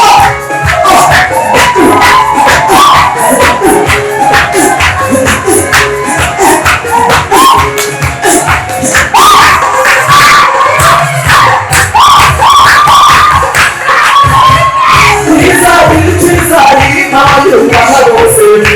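A large crowd cheers, shouts and claps in loud, dense waves that keep going for the whole stretch, with voices rising and falling throughout.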